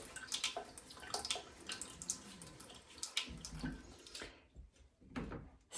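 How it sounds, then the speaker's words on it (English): Water runs and splashes close by in uneven gurgling bursts as a shoe is dampened, with softer drips toward the end. "So what I'm going to do is dampen it here with some water."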